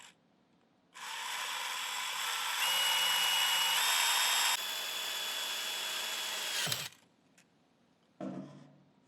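A power drill drives screws into a Tennant S5 scrubber brush, a steady high whine of about five seconds with a pitch step midway, ending in a clunk and a brief rattle.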